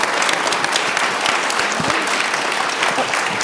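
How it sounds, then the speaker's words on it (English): Audience applause at the Transform Westside Summit, a dense, steady clapping from a crowd that carries evenly through the whole short stretch. "let's give them one more round of applause"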